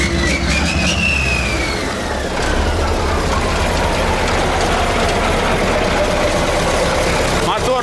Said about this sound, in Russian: Ну посмотри, как мотор работает.